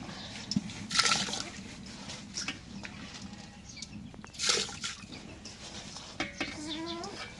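Water poured off washed lentils drains in two splashy bursts a few seconds apart, fairly faint, while chickens cluck and a rooster calls in the background.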